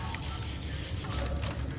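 A steady hissing spray sound from the Death Stranding game runs continuously, fairly quiet, with faint mechanical clicking under it and no talk.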